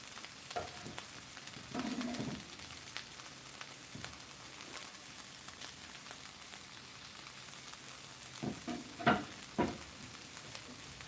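Long bacon strips sizzle in a pan, a faint steady frying hiss broken by a few louder pops and spatters now and then.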